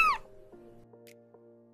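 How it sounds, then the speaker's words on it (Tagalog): A pet cat gives one short, rising meow at the start, close and clear, followed by a quiet steady hum in the room. "Kaya kung may marinig kayong mga meow-meow dyan, sila yun."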